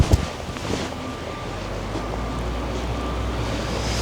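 Steady wind rushes and buffets across a microphone outdoors on a disc golf course, a constant low roar filling the whole stretch with no speech.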